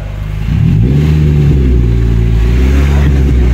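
A car engine with its muffler cut off, running inside a garage, jumps from idle into a loud, raw, throaty rev and holds a deep droning roar close by.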